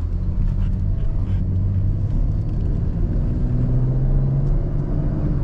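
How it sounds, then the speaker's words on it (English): A Camaro's engine drones steadily while driving, heard from inside the car as a constant, loud, low rumble with road noise and no talking. "sometimes I just like to listen to the engine"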